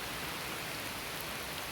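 Steady rain falls through dark woods, a dense, even hiss of drops on leaves and ground that stays constant and fairly close throughout, with no voices.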